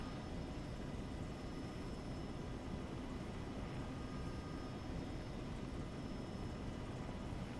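Steady, broadband engine roar of an aircraft taxiing on the ground in ArmA 3, a continuous even drone with low rumble throughout and no pauses.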